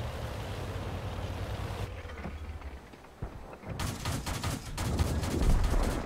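Gunfire from a World of Tanks match with a Luchs tank: a few sharp, loud cannon shots over a rumbling engine, followed by a denser run of crackling impacts, with no voices.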